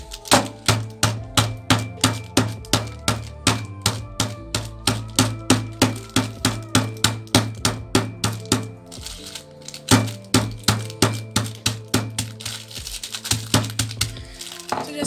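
Oreo cookies are crushed for ice cream with rapid, regular pounding strikes, each a sharp crunchy thud repeating in a steady rhythm, close and loud, over faint background music.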